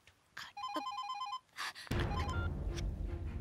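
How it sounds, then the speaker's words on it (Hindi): A telephone bell rings in short, bright bursts in an indoor scene before louder background noise and movement take over. "मैडम आपका फोन।"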